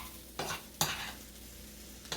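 Shrimp fried rice being stirred in a frying pan: a few distinct scraping strokes of a utensil, close and crisp, over a faint steady sizzle, with no talking.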